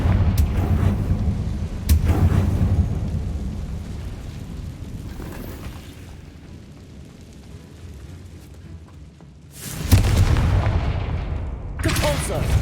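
Confringo blasting-spell explosions in the Hogwarts Legacy video game come as loud, deep booms with rumbling tails, one near the start and heavy bursts near ten and twelve seconds.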